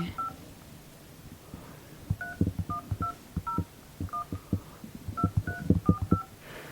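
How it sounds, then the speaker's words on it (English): Touch-tone keypad beeps as a phone number is dialed to a police hotline, a quick irregular run of a dozen or so short electronic tones over soft thumps and low background rumble. "I'm now going to try dialing this phone number that I've been given by Ling"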